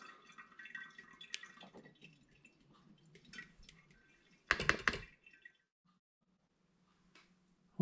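Honey porter wort trickles through a sieve into a demijohn. Faint, sparse dripping and trickling is heard, with one brief louder splashing burst midway and near-silence afterward.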